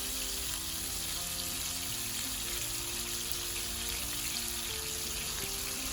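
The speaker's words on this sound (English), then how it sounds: "we're going to transfer or pour the shrimp into the hot oil" Shrimp fry in hot oil with a steady, dense sizzle and crackle that holds at an even moderate level throughout, with no talking.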